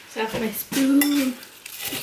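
A metal spoon clinks briefly against a dish at home, with a couple of light, ringing taps close by and a voice murmuring.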